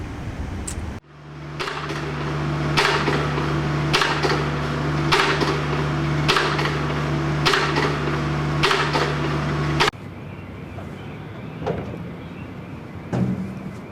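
A groundwater well drill rig drones steadily while its 140-pound hammer strikes rods at a regular pace, roughly one per second, then the engine noise drops and the striking stops.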